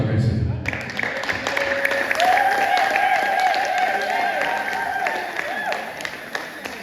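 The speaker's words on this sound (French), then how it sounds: "Est-ce qu'on peut applaudir le Seigneur?" A church congregation applauding during a Sunday service, a steady wash of clapping under voices and a sustained tonal hum, moderately loud and continuous.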